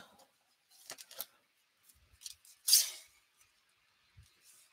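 Scissors trim a paper card base in a few short, faint snips separated by quiet pauses, with one sharper cut standing out.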